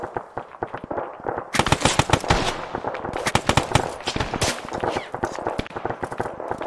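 Rapid machine gun bursts in a Battle of Salerno (Operation Avalanche) war video game, loud and near, with dense overlapping shots and sharp crackling gunfire throughout, growing heavier after a brief lighter opening.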